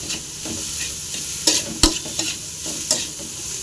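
Bitter gourd fries in a pan under a steady sizzle, punctuated by several sharp scrapes and knocks of a utensil stirring, one especially loud clack midway, with no speech.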